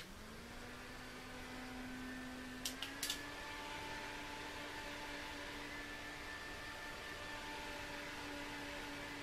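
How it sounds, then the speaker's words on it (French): A small fan whirs steadily with a faint tonal hum, quiet and constant, broken only by a couple of soft clicks early on. "Je vais venir faire sécher avec mon petit ventilateur."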